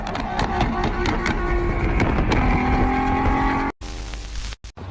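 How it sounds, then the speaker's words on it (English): A sports car's loud exhaust roars continuously as it drives past, engine revving and tires squealing at a drifting event, the sound cutting off abruptly near the end. "This guy really wanted to show off his exhaust."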